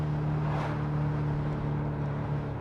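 BMW M8 Competition V8 engine rumbling steadily through downshifts, a loud, sustained low drone heard from inside the car with wind noise over it.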